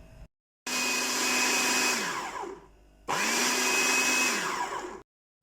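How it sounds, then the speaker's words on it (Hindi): An electric chopper grinds lentils in two separate bursts of about two seconds each, a loud, close motor whine that spins up, holds steady and winds down with a falling pitch between short pauses. "सबसे पहले मैं दाल को चॉपर में पीस लेती हूँ"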